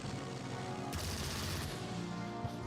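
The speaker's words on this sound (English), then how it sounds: "I strafed a bunker." An aircraft strafes a bunker in the strategy game Strategic Mind: Fight for Freedom, a faint, dense rattle of rapid gunfire running over a steady engine drone, with one sharper burst in the middle.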